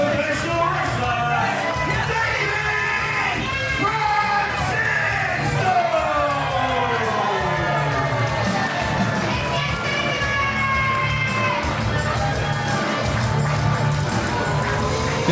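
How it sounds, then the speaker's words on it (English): A wrestling crowd cheers and whoops for David Francisco during a match, loud and sustained throughout, with many voices and shouts layered over each other. "The crowd always behind Francisco."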